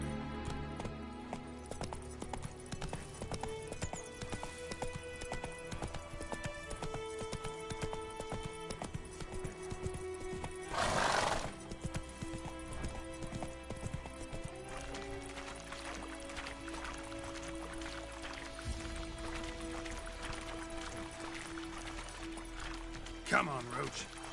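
Roach the horse gallops in The Witcher 3, with rhythmic hoofbeats running continuously under game music and voices, plus a brief whoosh partway through.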